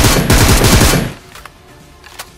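Rapid automatic gunfire from the battle-royale game PUBG roars in a dense, loud burst for about a second, then drops away to a few faint, scattered shots.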